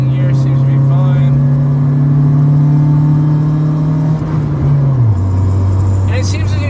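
A 1997 Honda Civic DX with a D16Z6 engine pulls in second gear, its steady hum holding pitch and then dropping as the revs fall near the end, heard from inside the cabin with no one talking.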